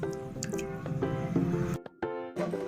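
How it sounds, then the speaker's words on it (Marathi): Water drains and drips from a container of soaking millet in wet trickles and squishy pours, pausing briefly before a few final splashes. "अजून एकदा पाणी काढून घेते काळं पाणी निघून जाईल थोडंसं"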